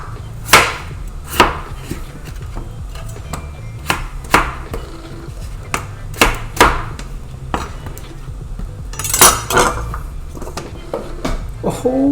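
A large russet potato is peeled by hand, with repeated crisp scraping strokes roughly every second, close and distinct over a quiet kitchen background.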